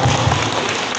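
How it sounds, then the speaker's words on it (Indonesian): An audience at a formal ceremony in the DPRD building of Tasikmalaya claps in a dense, steady burst of applause, fairly loud and without talk. "Mari kita beri aplaus yang meriah untuk beliau."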